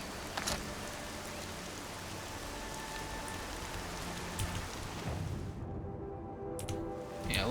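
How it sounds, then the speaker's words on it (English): Steady rain pours through the Horizon Zero Dawn game world, a dense hiss that holds throughout with a few louder splashes, easing briefly near the end before picking up again. "It would be a lot easier if it wasn't raining."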